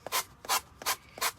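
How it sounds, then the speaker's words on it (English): A small sanding block rubs along the edges of a wooden sign in four even, rhythmic rasping strokes, close and fairly quiet, with no voices. "I'm going to grab my little sanding block here, and I'm going to go around all of these edges"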